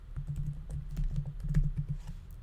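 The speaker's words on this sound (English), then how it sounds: "Finally, for our package name, we're going to type" Steady, close computer keyboard typing runs throughout, a quick even flurry of key clicks as a package name is entered, with no talk over it.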